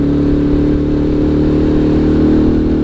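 A Russian Alpha moped engine pulls under roughly half throttle in third gear on a rural road, giving a steady, close, buzzing drone with a continuous mid-pitched hum and no voices.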